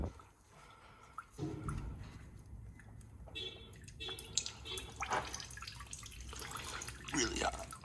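Hot motor oil drains from a 2016 Ford Explorer Interceptor in a faint, steady liquid trickle with dripping, heard under low background noise.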